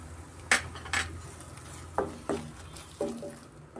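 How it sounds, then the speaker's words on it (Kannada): Metal spoon knocks and scrapes against a pan as tomato puree is added to frying ginger and garlic, several sharp clinks spaced apart over a faint low hiss. "ಇವಾಗ ನಾವು ಟೊಮೆಟೊ ಪ್ಯೂರಿ ಸೇರಿಸ್ಕೊಳ್ಳೋಣ"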